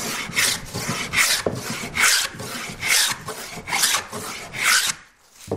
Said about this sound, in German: Also man kann auch hobeln, wenn man keine Hobelbank hat.